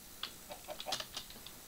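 A Bluetooth computer keyboard is typed on quietly nearby, giving a short run of irregular light clicks and taps without any talking.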